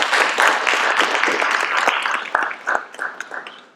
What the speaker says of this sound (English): If you can just join me in a quick round of applause for